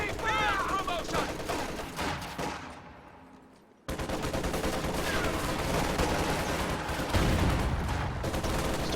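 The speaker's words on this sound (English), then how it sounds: "Stolen MG-34 will suppress those Sturm Pioneers before they can do any real damage" An MG-34 machine gun fires in a video game battle against Sturm Pioneer infantry, with dense, continuous bursts of gunfire and distant explosions filling the mix, and brief game voice lines heard over the din.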